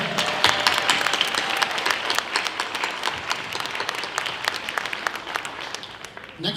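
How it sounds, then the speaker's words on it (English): Audience applause at a Wausau Hmong 50-year community celebration after a performance, a steady wash of many hands clapping that fills the hall and slowly tapers off. "Let's give Nina Tao one more round of applause, okay?"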